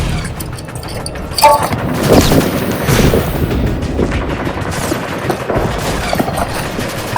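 Artillery explosions and gunfire in a war film battle scene, deep booms and scattered shots over a constant rumbling din, with distant shouting voices mixed in.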